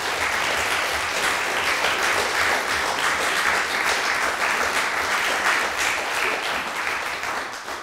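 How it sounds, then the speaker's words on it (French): A seated audience at a staged historical trial gives sustained, dense applause that stays fairly even for around eight seconds and then begins to taper at the end. "Jean-François, que l'on surnommait Papillon, sous vos applaudissements bien entendu"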